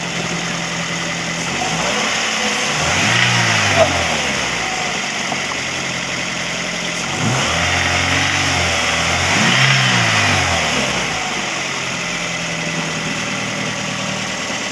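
A Toyota Vios engine runs warm at a steady idle, with a few smooth rev rises and falls. The engine is close, continuous and heard alone with no talking.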